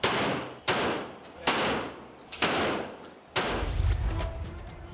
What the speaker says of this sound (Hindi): उधर पुलिस लाइन में यूएटी के 75 सिक्योरिटी गार्ड्स का फायरिंग ट्रेनिंग